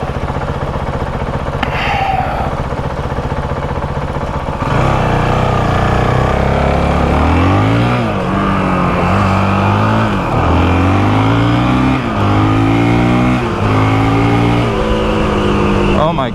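A Honda CRF450RL dirt bike on a night ride pops a wheelie. Its engine roars close and loud, revving up and down in repeated surging sweeps over a steady rumble.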